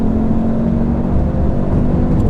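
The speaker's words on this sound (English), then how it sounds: "Loads of wheel spin." Tuned 450hp BMW M240i and 460hp Audi RS3 launching hard with wheelspin, a loud, steady engine roar and tyre whir sustained throughout with no pauses or talk.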